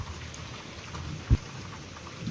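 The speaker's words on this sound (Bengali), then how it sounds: "এই যে বৃষ্টি হইতেছে" Rain falls steadily on a cloudy, windy day by an open wetland, a close, continuous hiss with one sharp thump partway through and no talking.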